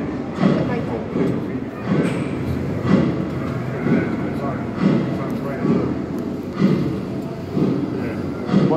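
A narrow-gauge railway train running at Europa Park, with rhythmic clickety-clack from the wheels at regular intervals under steady rolling noise, heard from on board with voices talking over it.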